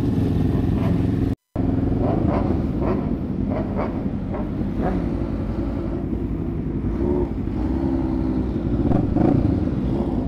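A Kawasaki Ninja H2R motorcycle roars continuously and loudly up close on a group ride, with a dense, steady engine drone and pulsing revs, broken by a brief dropout near the start.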